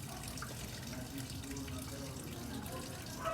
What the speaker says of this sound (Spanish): Estoy poniendo agua.